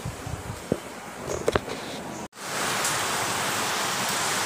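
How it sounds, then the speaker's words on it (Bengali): Steady rain pours down outdoors at a home in Bengal, a broad continuous hiss that begins abruptly halfway through and continues evenly, after a short stretch of faint scattered household sounds. "এই দেখো বন্ধুরা, কেমন বৃষ্টি এসে গেছে"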